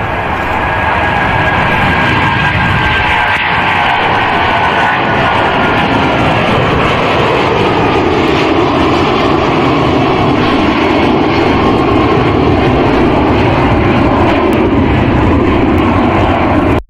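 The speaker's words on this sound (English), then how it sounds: "the plane left Heathrow Terminal 5 and took off from runway 27" A Boeing 777 jet airliner takes off from runway 27 left at Heathrow, a loud steady engine roar that swells and sustains throughout.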